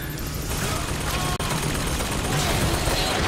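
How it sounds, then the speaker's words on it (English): Steady, dense gunfire from the video game Bioshock Infinite, a continuous rattle of shots that fills the scene without a break. "I'm shooting everyone."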